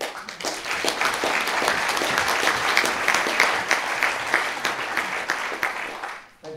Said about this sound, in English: Please give Evan an introductory round of applause